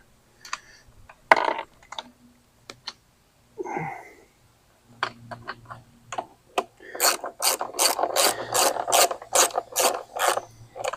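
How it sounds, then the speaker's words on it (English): Stanley socket ratchet tightening two 10mm nuts on the recoil assembly of a Cub Cadet SC500Z mower: close, dry clicking in short bursts, then a rapid run of repeated strokes toward the end, with no talking. "These are two 10mm nuts that go on here"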